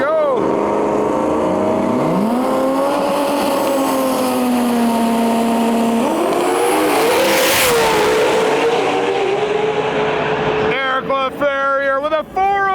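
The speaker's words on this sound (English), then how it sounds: "The import, the 2J, one of the best sounding cars you'll ever hear in your life" An import drag racing car with a 2J engine accelerates down the strip, its loud revving engine climbing in pitch through the gears. A commentator talks over the steady roar throughout.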